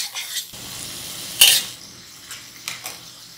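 Carrots frying in a pan for chicken fried rice are stirred, giving bursts of sizzling and scraping, with one loud hiss in the middle and a couple of quieter stirs after.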